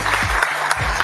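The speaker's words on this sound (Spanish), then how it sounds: "Un aplauso." An audience gives a short burst of applause at a political campaign event in Costa Rica, a brief clatter of clapping hands.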